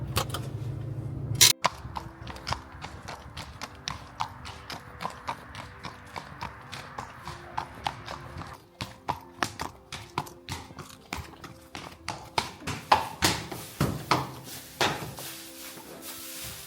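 A stallion's hooves clip-clop at outdoor stables, a steady run of sharp close knocks on a hard surface that grows louder and quicker toward the end, with no talk.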